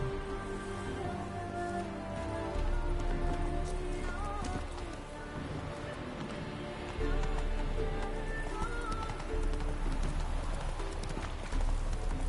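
Roach the horse galloping in The Witcher 3, steady rhythmic hoofbeats clip-clopping over a musical score and ambient rain-like hiss throughout.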